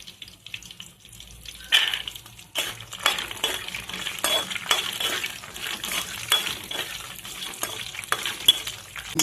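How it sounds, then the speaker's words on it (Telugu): Green chillies, cumin and peanuts fry in a pan with a busy, crackling sizzle, while repeated scraping stirs and occasional metallic clinks run throughout at close range without speech. "బాగా ఫ్రై అయినాయి"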